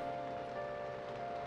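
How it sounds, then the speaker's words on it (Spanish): Torrential rain falling outdoors in the video game Persona 5, a steady, even wash of rain over a constant tonal game-music bed, continuous and moderately loud with no voices. "Está cayendo lluvia torrencial fuera."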